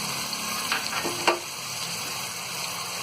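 Ground spices such as coriander and turmeric powder fry with ginger-garlic paste in a pan, a close steady sizzle with a few brief stirring scrapes, no voices.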